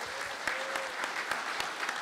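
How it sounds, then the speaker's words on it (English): Seminar audience applause, fairly light and spread out, with sharp individual claps and a few louder hits over a quiet room. "So please give them a round of applause for that."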